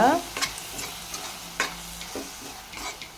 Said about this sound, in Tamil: உப்பு சேர்த்துட்டு நல்லா ஒரு தடவை கலந்து விட்டுக்கோங்க